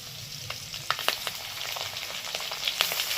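Slit green chillies and ginger garlic paste frying for chicken bharta make a soft, steady sizzle broken by sharp pops and spatters, with a few louder crackles standing out.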